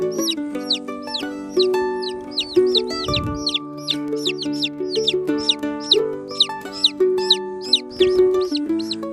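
A small flock of young Barred Rock and Americana cross chickens clucking nearby, giving low, repeated throaty notes under a steady stream of high, rhythmic chirps and peeps.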